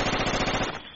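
Sustained rapid machine-gun fire in a squad-based video game, a dense automatic burst rattling close and loud for most of the second before cutting off, with no talking over it.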